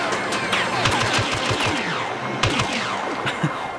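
Blaster fire in Star Wars Battlefront survival mode on Xbox One: rapid, overlapping laser shots with whistling, falling zaps and bursts of sustained fire, loud and dense throughout.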